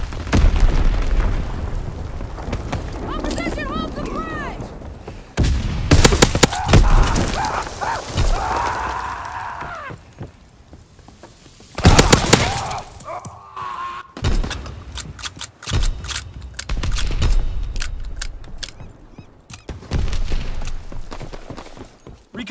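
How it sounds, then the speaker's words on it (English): Bomb explosions and gunfire in a World War II video game on the USS Texas map, with heavy booms and bursts of shots scattered irregularly over about twenty seconds, loud and close, with quieter rumbling gaps between. "Enemy bomb incoming. Get to cover."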